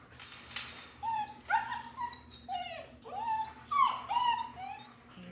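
An 8-week-old German Shepherd puppy, about 18 to 20 pounds, whimpers and yips in repeated high whiny bursts inside a large playpen set up in a living room, close and fairly loud with a low steady hum beneath.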